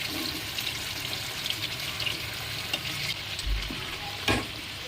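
Fried potatoes are added to chicken curry in a hot pan, sizzling steadily, a continuous crackling hiss with a couple of dull knocks near the end.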